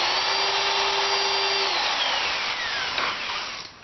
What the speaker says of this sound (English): Okay, now I'll drill those holes out.